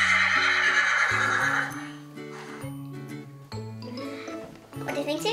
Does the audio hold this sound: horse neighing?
yes